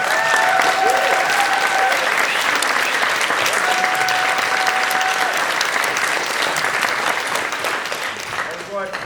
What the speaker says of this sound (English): Big round of applause for everyone, please.